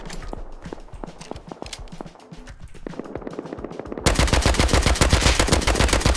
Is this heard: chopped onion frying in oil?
no